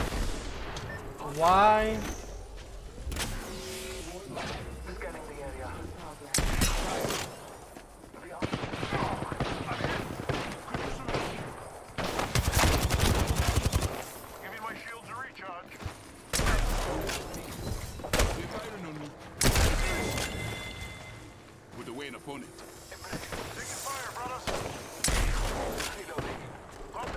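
Apex Legends gunfight with bursts of rapid gunfire from an enemy squad, intermittent volleys near and far, mixed with voice chatter throughout.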